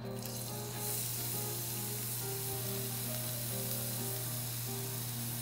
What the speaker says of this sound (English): Sauté the garlic.